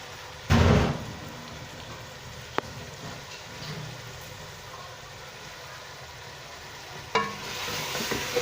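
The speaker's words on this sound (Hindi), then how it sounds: "पहिरीं चिकन खे असां थोरो भुञंदासीं, चिकन को भुनेंगे हम" Chicken, with some liver, fries in a pot for Sindhi pulao, giving a soft continuous sizzle broken by a loud stirring scrape near the start and another toward the end, with no talk.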